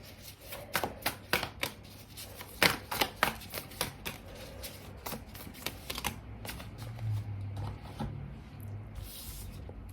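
Tarot cards being shuffled and drawn at close range, with a rapid run of crisp riffles and slaps that thins into softer sliding, rustling card handling toward the end. No one speaks.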